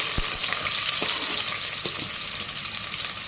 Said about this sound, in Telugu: ఇది బాగా ఫ్రై చేసుకోవాలి చూసేయండి ఆనియన్ కొద్దిగా ఫ్రై అయినాయి కదా